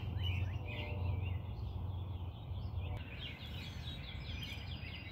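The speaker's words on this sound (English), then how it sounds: "You hear all these birds out here?" Several birds chirp and sing outdoors on a cool morning, quick repeated tweets and trills at moderate distance over a low steady background hum, carrying on without a break.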